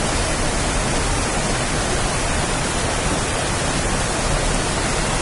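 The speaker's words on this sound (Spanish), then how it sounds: "El sonido de agua fluyendo proviene de esta cascada." A small in-game waterfall swollen with heavy rain pours continuously, a dense, even roar of rushing water that stays loud and unchanging throughout, with no voices.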